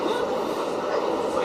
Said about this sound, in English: this is the B train going to 145th Street